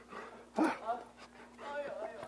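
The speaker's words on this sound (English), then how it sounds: "There's my dogs. There's my dogs." Dogs whimper and yip excitedly in greeting, with a louder whine and soft panting close by, while a person talks over them.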